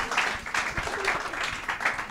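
Audience applause, a short burst of loose, close hand clapping in several uneven waves, lasting only a couple of seconds.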